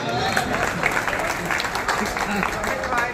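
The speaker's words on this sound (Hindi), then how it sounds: "तालियां बजा दो" Audience applause at an outdoor Urdu poetry gathering (mushaira) in Karimnagar, India, with continuous clapping from a crowd, steady and fairly loud for a few seconds.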